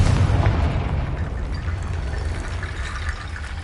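A Confringo blasting spell from a video game goes off as a deep, booming explosion that hits hard at the start and then rumbles and decays into a watery, crackling tail.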